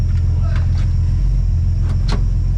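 The engine of a 1962 Ford Falcon barn find idles steadily with a low, pulsing rumble, while brief knocks and rattles come from inside the car.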